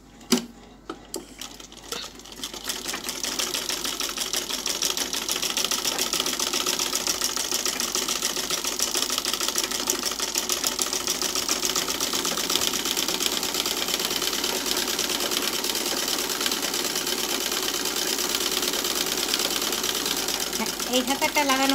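An electric sewing machine stitches a gown sleeve, running in a steady fast mechanical chatter for about twenty seconds after a few short starts, with someone talking over it.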